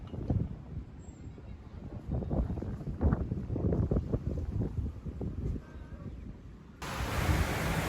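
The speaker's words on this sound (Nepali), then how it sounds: "बुटोलबाट पूर्व लागिसक्यो हावा" Wind before heavy rain at Butwal, Nepal, buffets the microphone in a steady low roar with gusty rumbles, rising into a harsher hiss near the end.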